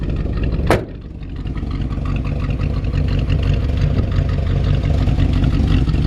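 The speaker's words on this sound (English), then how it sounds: "Great sounding exhaust." A 1965 Chevrolet C10 pickup truck idles steadily, its engine and exhaust giving a loud, deep, continuous rumble close by after one brief sharp transient near the start, with no talking.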